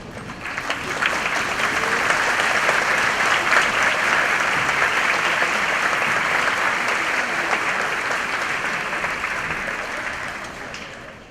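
A large auditorium audience at a university honorary doctorate ceremony applauds steadily and loudly, a dense, sustained clapping that swells quickly, holds for about ten seconds, and then gradually thins, with no speech over it.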